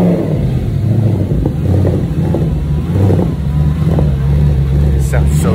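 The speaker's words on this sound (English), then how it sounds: "Now, moment of truth, will it start?" Barn-find Lamborghini V8 running and revving, a loud, close engine drone with rhythmic surges, with people talking over it.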